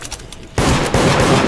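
Rapid gunfire from the multiplayer game Deceit, a sudden loud burst of close shots that runs on continuously after a quieter opening.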